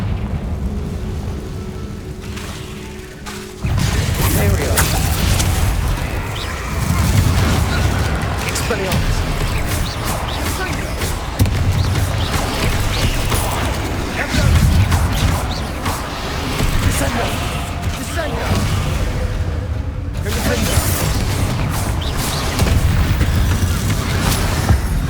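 Confringo blasting-spell explosions in the Hogwarts Legacy video game, heavy booming blasts and rumbling debris layered under continuous combat noise and game music, loud and dense, with voices speaking at times.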